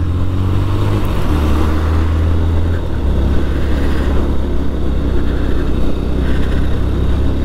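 Motorcycle riding along a road in Kerala, heard from the rider's seat: a steady, loud engine drone with wind rush, the pitch dipping briefly as the throttle eases, continuous throughout.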